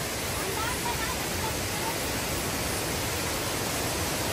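Rushing water at the Thousand Layers Waterfalls on Lantaw Island fills the clip as a loud, constant broadband roar with no pauses.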